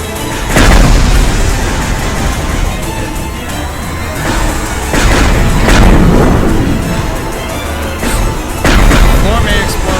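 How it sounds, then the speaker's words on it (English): Repeated booming explosions of falling debris in a Terraria boss fight during a blood moon, several heavy loud bursts spaced a few seconds apart over continuous rumbling game noise. "Exploding debris!"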